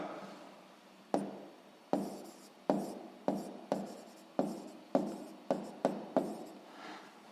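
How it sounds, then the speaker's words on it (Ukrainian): A pen writes on paper while a sixth-grade maths exercise is worked out, giving about ten short, sharp, scratchy strokes at an uneven pace, close and quiet, with no talk. "Я скорочено напишу постачальника Б."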